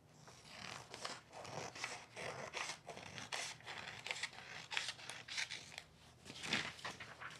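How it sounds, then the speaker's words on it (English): Scissors trim a sheet of paper for an origami gift box, a close, steady series of crisp snips and slicing strokes with no talking. "And then I'm going to trim this piece off."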